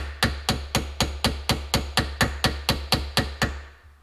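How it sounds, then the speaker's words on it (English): A small hammer lightly taps a seized Detroit diesel injector plunger with a tool, about fourteen sharp metallic strikes in an even, steady rhythm, close and clear with no talk. "Small hammer, just light taps."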